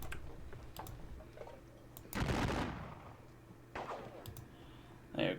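Gunfire from the strategy game Battle of Friedland, faint clicks followed by a few short bursts of muffled shots and crackling volleys, quiet and sparse.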